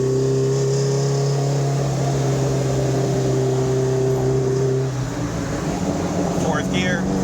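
A track-ready 1976 Alfa Romeo GTAm runs at partial throttle, its engine humming steadily under cabin noise for about five seconds before the tone drops away, leaving a rougher road rumble and a brief voice.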